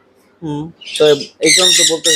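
Parrots in a bird shop let out a few loud, harsh squawks close by, in separate bursts with short gaps between them.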